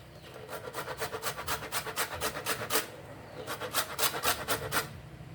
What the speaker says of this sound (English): So now time to put some lime zest in the coconut punch.